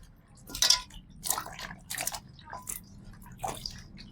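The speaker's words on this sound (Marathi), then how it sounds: "दुसऱ्या पाण्यानं धुवून घेतो." Black koyari vegetables being washed by hand in a second change of water: several splashy, wet bursts of sloshing and dripping at irregular intervals, close up, with quieter gaps between.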